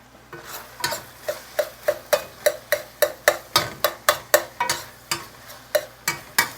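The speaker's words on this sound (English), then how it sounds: "And I'm going to mix this thoroughly, which is what I'm doing." A spoon works cooked rice into stuffed bell pepper filling in a bowl, a regular series of close, soft scraping and clinking strokes about two per second, with no talk over it.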